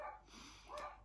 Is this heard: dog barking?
yes